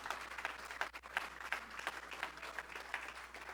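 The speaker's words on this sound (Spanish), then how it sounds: "Si entenderías, estuvieras aplaudiendo lo que te estoy diciendo." Scattered applause from a church congregation during a sermon, a loose patter of claps at moderate distance running steadily under the room's reverberation, with no voices on top.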